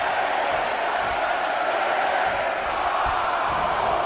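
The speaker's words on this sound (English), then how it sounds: "Listen to this crowd." Video game wrestling crowd in WWE 2K20 roars steadily through the whole stretch, a dense, even wash of cheering arena noise with no break.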